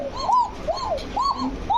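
Kaka pigeons from a second breeding pair coo in a repeating series of three rolling, rising-and-falling calls, close and clear with no talking.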